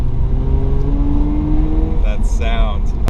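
A Mazda RX-8 rotary engine revs steadily while driving, its hum rising in pitch, then the engine note surges louder with a quick climbing rev before settling, heard from inside the car.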